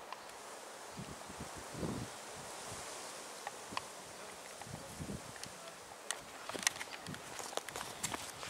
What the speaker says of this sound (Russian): Пчелка тут была.